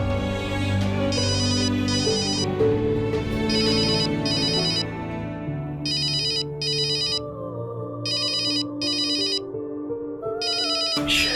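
An electronic phone ringtone plays a repeating melodic pattern in bursts, fairly loud and clear, with no voices.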